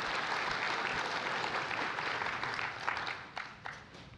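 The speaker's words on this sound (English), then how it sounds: "If a round of applause." Conference audience gives a round of applause after a talk on US Army history, steady dense clapping throughout that thins slightly toward the end.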